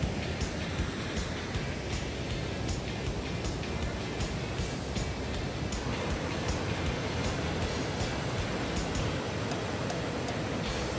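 A waterfall on New Zealand's North Island pours with a steady, dense roar that fills the whole span without pause, close and unbroken, with no voices over it.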